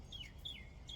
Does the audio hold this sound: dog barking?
no